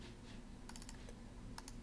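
A few soft keystrokes on a computer keyboard as a file name is typed, quiet and brief, clustered in two small bursts over a low steady background hum.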